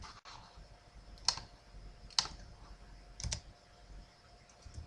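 Computer keyboard typing while a report layout is built in database software: three or four separate, sharp key clicks spaced about a second apart, quiet and close, with no voice.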